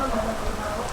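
Steady rain hisses as a dense, even wash of droplets in the video game PEAK, continuous and moderately loud with no clear individual drops.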